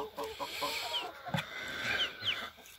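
Backyard coop chickens clucking and calling close by, a few short bright squawks and murmuring clucks over a quiet outdoor background.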